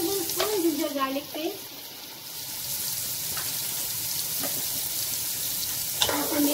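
Tomatoes fry in a pan for chicken patiala, giving a close, continuous sizzle with occasional stirring clicks; a brief voice sounds at the very start.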